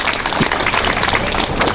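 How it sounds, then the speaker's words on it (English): Dense, steady applause and clapping from an outdoor protest crowd, loud and close, with scattered cheers mixed in. "Give yourself a round of applause."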